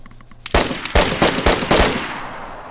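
A semi-automatic gun fires in the online game DayZ: a rapid burst of about six to eight loud, close shots over roughly a second and a half, then a fading echo.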